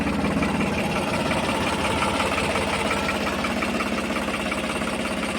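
A 2012 New Holland 3600-2 tractor engine idles steadily and loudly up close, a continuous low rumble with a fine knocking pulse and no talk over it.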